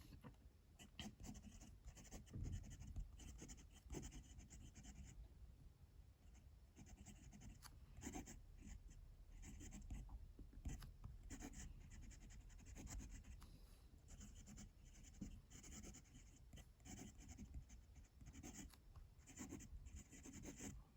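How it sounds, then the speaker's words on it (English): Fine-nib Gravitas pocket fountain pen scratching across paper with Pelikan Royal Blue ink, a very faint, continuous run of small scratchy strokes under a low background hiss. "Let's do some writing now with the pen."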